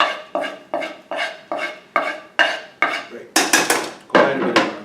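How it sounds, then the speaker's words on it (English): A utensil scrapes and knocks against a skillet in a steady rhythm of about a dozen strokes, each a bright metallic clatter that trails off, growing harsher near the end; no voices. "give that little stir there on the skillet"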